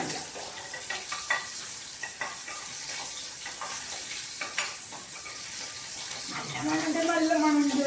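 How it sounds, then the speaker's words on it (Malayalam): Small shallots dropped into hot coconut oil crackle and sizzle with a steady hiss and light stirring scrapes close by; a voice joins faintly near the end. "വെളിച്ചെണ്ണ നന്നായിട്ട് ചൂടായി വരുമ്പോൾ നമുക്ക് കുറച്ച് ചെറിയ ഉള്ളി ഇങ്ങനെ ഇട്ട് കൊടുത്തിട്ട്"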